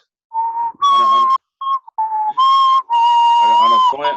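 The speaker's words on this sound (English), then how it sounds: "whistling the anthem" A person whistles a slow, melodic national anthem tune alone, with clear sustained notes and brief pauses between phrases.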